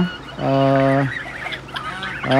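Peking ducks and geese honk loudly in their pen: one long, nasal, held honk, scattered squawks and flapping, then another honk starting at the end.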